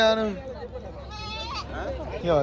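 Goats bleat close by in wavering, nasal calls, one after another, while people's voices murmur faintly in the background.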